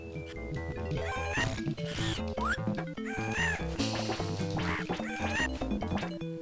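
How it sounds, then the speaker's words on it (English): Bird calls from the Bio Hazard Battle video game, heard as repeated squawking, quacking cries over dense, loud game music with no talk. "the bird noise is getting a little annoying"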